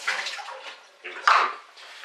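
Water is poured off soaked chopped tomatoes in two splashing pulses in a kitchen, near and moderately loud.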